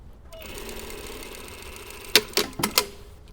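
A sewing machine stitches a side seam on lining fabric, a steady mechanical whir ending in a few quick, loud rattling bursts close by.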